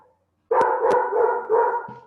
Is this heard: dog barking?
yes